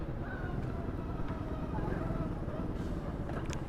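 A 2015 SYM Symba motorcycle ridden through New York City streets, its small engine giving a steady low rumble beneath continuous traffic and road noise throughout.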